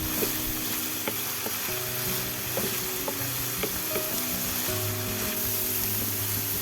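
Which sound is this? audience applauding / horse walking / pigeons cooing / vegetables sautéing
vegetables sautéing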